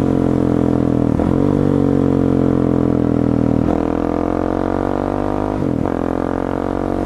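A motorcycle engine with an aftermarket exhaust revs loudly and close by during engine break-in, its pitch climbing steadily, then dropping sharply and rising again several times, like shifting through gears.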